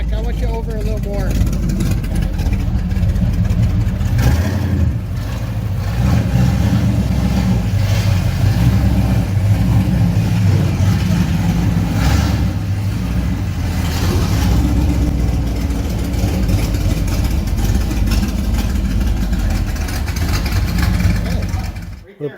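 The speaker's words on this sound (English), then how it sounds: "We have her idling at 650." A loud, rumbling car engine idles at 650 rpm with a rough, burbling open exhaust through cutouts, running steadily close by while people talk over it.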